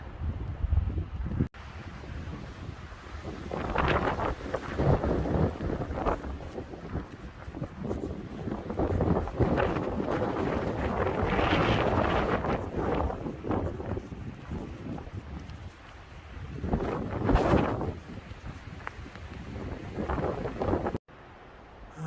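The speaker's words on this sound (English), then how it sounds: "That freezing wind cuts right through everything." Cold wind blows across an exposed stretch of the Arizona Trail, roaring in loud, sustained gusts that buffet the microphone for about twenty seconds, swelling and easing with no one talking.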